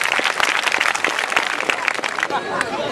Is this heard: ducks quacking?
no